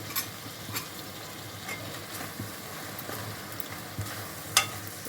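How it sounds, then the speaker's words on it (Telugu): Eggplant and dry fish curry with freshly added coriander being stirred in a pot, a soft steady scraping and mixing under a faint simmering sizzle, with a few sharper utensil knocks near the end. "కొత్తిమీర వేసి ఒకసారి మొత్తం కలుపుకుందాం"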